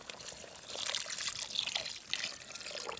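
Spiced masala water pours into a pan while chicken kofta (meatball) curry is cooked. A steady, close splashing trickle runs for about three seconds with no talk.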